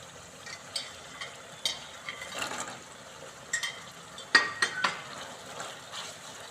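Fried baby corn is stirred into a frying pan while cooking chili baby corn: soft scraping and clinking strokes come in irregular bursts over a faint, quiet sizzle, with no one talking.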